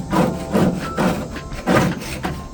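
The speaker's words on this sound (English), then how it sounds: "this scraper still does a pretty good job" A metal scraper works over the heat shield deflector of a Weber Searwood pellet grill, giving rough rasping strokes in a steady back-and-forth rhythm, about five close, loud passes with no talking.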